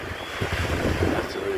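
Surf and wind at Coogee Beach, a steady close rush of breaking waves mixed with gusty wind buffeting the microphone, continuous and fairly loud with no one speaking.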